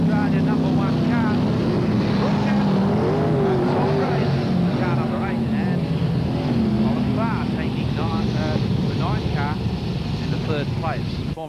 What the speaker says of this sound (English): as the sprint cars move into position